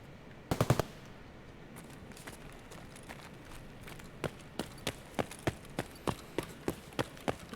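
Gunfire in the Escape From Tarkov shooter game: a quick cluster of shots, then a steady run of evenly spaced single shots over a constant background ambience.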